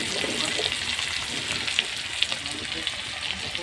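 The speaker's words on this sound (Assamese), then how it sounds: "এয়া মোৰ কণী ফ্ৰাই কৰা হ'ব এইফালে তেল দিয়াই আছে পিঁয়াজ দি দিছোঁ" Onions sizzling in hot oil in a pan ahead of an egg being fried, a steady crackling hiss with a few sharper pops, under a faint voice.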